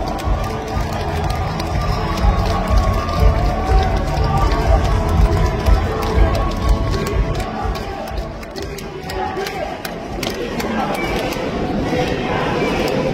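A large crowd cheers and claps loudly and steadily throughout at a Democratic Party of Korea convention, a dense roar of applause with some shouting mixed in.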